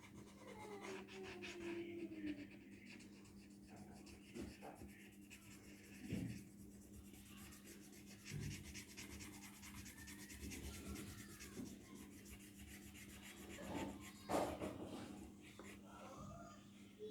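Crayon rubbed and blended across paper for a pear drawing, a soft, faint, continuous scratchy rubbing with brief louder strokes, going on alone without speech.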